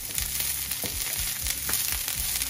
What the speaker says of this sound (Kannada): ಇವಾಗ ಇದು ಫ್ರೈ ಆಗ್ತಾ ಇದೆ